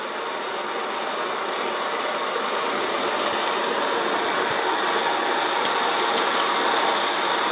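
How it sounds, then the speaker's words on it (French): A torch reheats a tin solder joint on a pipe, producing a steady, loud, broadband roaring hiss that stays constant throughout, with a few faint ticks near the end. "On va réchauffer la soudure que j'ai faite"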